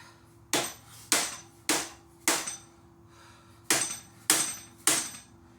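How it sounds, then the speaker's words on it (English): Seven sharp, solid strikes from a dead blow hammer on a threaded part while a 1931 Ford Model A hot rod's front suspension is worked on, landing in a steady rhythm with a brief pause midway, close and loud. "Got something like this with threads, use a dead blow, it's got a softer end on it"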